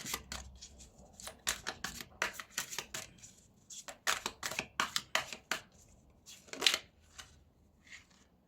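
Tarot cards shuffled by hand, a rapid run of crisp riffling snaps and flicks spread over several seconds, ending with a card drawn, close and clear with no talking.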